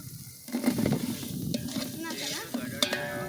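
Onions sizzle in a hot pan while a spoon stirs them, with clinks and scrapes against the metal over a steady frying hiss that starts abruptly and keeps going.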